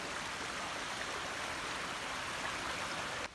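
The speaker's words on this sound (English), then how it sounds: "first thing I gotta do is water crossing" A stream rushing steadily through a backpacking water crossing, a broad, constant wash of flowing water that stays close and loud before cutting off abruptly at the end.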